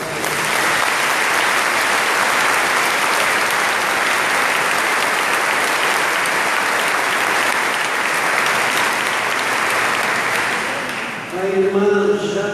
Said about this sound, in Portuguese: Aquela sala de palmas.